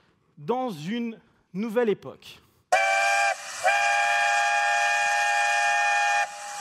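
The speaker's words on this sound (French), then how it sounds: "ça, c'est le son du RER-A qui vous amène en gare de la Défense" An RER A commuter train arrives at La Défense station with a loud, sustained tonal horn blast that holds steady for several seconds after someone speaks briefly in French.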